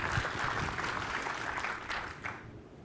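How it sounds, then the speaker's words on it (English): Audience applause after a keynote at Mobile World Congress: a dense, fairly distant patter of many hands that gradually thins out over about three seconds. "So let's give them an applause."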